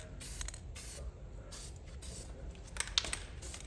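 Spray paint misted in light coats onto a 1978 Corvette steering column, with several short hissing bursts separated by pauses, close and fairly quiet.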